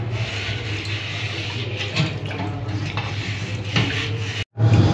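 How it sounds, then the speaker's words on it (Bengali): Rubbing scrub on an unglazed clay cooking pot being cleaned, a steady close rasping scrape that runs continuously with slight surges, a brief drop near the end, and a low hum underneath. "এবার এটাকেও এরকম করে ঘষে ঘষে একটু পরিষ্কার করে নেব।"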